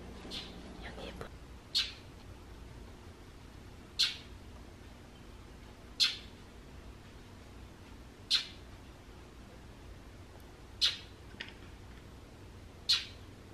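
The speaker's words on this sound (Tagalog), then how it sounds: "that bird is calling us" A bird calls outdoors in a series of short, sharp chirps spaced about two seconds apart, moderately distant and fairly faint over a quiet background.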